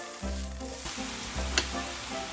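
Onions sizzle steadily in a hot pan for beef bourguignon, a close, continuous frying hiss with a brief sharp clink of stirring partway through.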